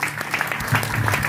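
Applause from a church congregation during a French-language service, a short burst of many hands clapping together, fairly close and steady throughout.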